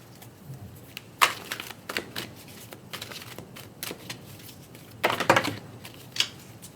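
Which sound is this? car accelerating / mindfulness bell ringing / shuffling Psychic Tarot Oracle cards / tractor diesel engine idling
shuffling Psychic Tarot Oracle cards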